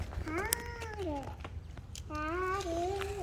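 A cat meows twice, close by, two drawn-out rising-and-falling calls with a short pause between them, over faint background noise outdoors at a museum.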